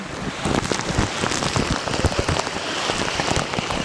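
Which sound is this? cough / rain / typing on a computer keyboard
rain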